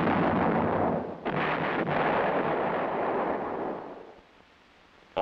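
Self-propelled 105mm M108 howitzer firing, a broad thunderous blast that rolls on for several seconds before fading away into quiet.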